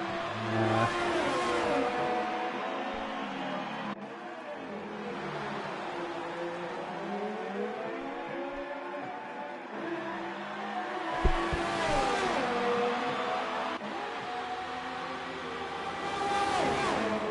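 Race cars in a sim racing game on a Belgian circuit, engines revving and whining steadily in a continuous loud drone with gear shifts and pitch sweeps throughout, no talk.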